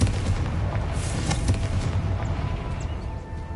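A Confringo blasting spell explodes in the Hogwarts Legacy video game, a loud booming blast that rolls into a rumbling decay over a few seconds, with no talking.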